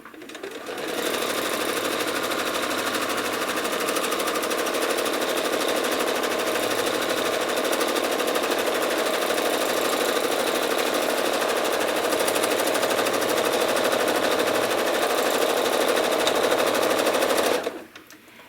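A home sewing machine runs nonstop during free-motion quilting of a small cherry-bowl quilt, a loud, close, rapid mechanical whir and stitching chatter that holds steady for about seventeen seconds, then cuts off abruptly.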